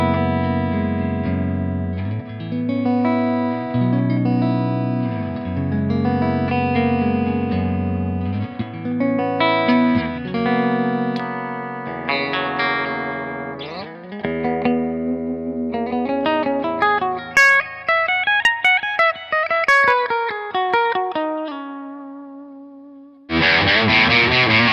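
A Squier electric guitar runs through effects such as distortion and chorus, playing sustained chords and melodic runs with ringing reverb for about twenty seconds, loud and close, before a sudden bright burst at the end.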